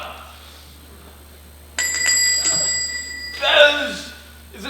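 A doorbell-like chime rings out sharply and sustains over a low hum, then a higher jangling ring follows near the end.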